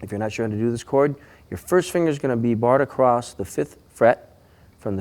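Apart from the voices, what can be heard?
No distinct noise like a dog, phone or traffic.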